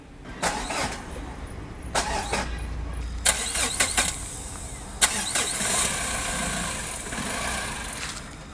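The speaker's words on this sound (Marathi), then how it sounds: "बहादूर तुम गाडी स्टार्ट करो।" A car engine is cranked several times but struggles to catch, an ignition fault. Repeated whirring starter bursts come between pauses, and one longer run near the end settles into rough running. The sound is close and fairly loud.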